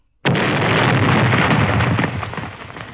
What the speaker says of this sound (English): Was that really the explosion sound that it made?